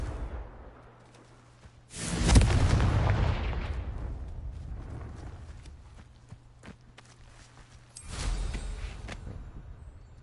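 A Confringo fire spell in Hogwarts Legacy bursts twice, each a loud booming explosion with a decaying roar, the first around two seconds in and a smaller one near eight seconds.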